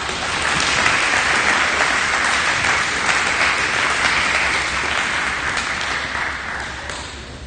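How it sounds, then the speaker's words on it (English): Loud, dense applause from the audience at a high school awards day ceremony, a thick continuous roar of many hands clapping at once that tapers slightly toward the end. "Let's give this group a round of applause,"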